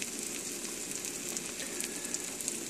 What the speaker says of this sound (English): I got my toast into the pan and you can hear it sizzling already